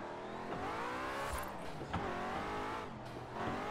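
A race car engine in Forza Horizon 4 drives at a steady loud drone, with shifting harmonics and brief tire or gear-change bursts along a straight.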